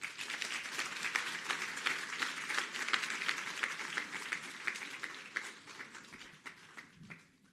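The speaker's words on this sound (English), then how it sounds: "a round of applause." An audience applauds Minister Kubayi's arrival at a meeting with property practitioners and real estate companies: dense, lively clapping from a room full of people that thins and fades out near the end.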